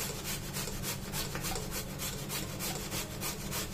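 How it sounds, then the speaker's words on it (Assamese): Potatoes being grated on a hand grater make a steady, fast rhythmic rasping and scraping that continues without a break, up close, with no voices. "গ্ৰেটাৰখনেৰে এনেকুৱাকৈ গ্ৰেট কৰি লৈছোঁ"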